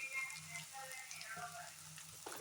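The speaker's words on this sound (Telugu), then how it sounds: "చిక్కుడుకాయ ముక్కలు చక్కగా ఫ్రై అయిపోయింది" Cluster bean (goru chikkudu) pieces frying in a pan make a faint, steady crackling sizzle, quiet and close, with a slight rise near the end.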